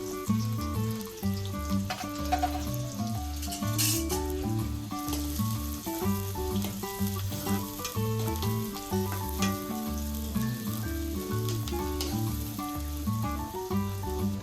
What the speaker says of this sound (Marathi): आता सर्वप्रथम आपण याच्यामध्ये कांदा टाकलाय तेलामध्ये. हा व्यवस्थित परतून घ्यायचा आहे.